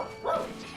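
A single short bark from a dog in the video game Final Fantasy XIV, mid-loud and brief, over a low background hum.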